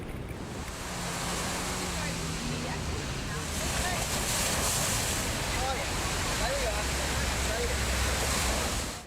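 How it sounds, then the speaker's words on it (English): An inflatable rescue boat sits idling in the surf, its low engine hum running steadily beneath loud, continuous breaking waves and wind noise on the microphone. "The driver will have the IRB in idle while waiting for the crew person and the casualty to return."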